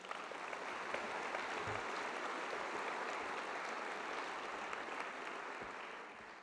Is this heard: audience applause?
yes